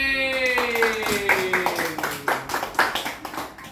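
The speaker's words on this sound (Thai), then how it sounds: "ปรบมือให้ตัวเอง" Students in a Thai language class clap for themselves, a run of separate hand claps in an uneven rhythm, heard close while a voice carries on over the start.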